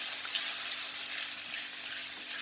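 Mackerel pan-frying in a pan, a dense, even hiss of sizzling oil close up, continuous and steady without pauses or talk.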